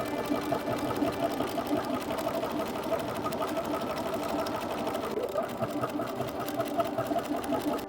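A sewing machine runs steadily for the whole stretch, stitching down the folded raw edge of a hem on a Simplicity S3190 garment, its motor hum and fast needle rattle continuous and close.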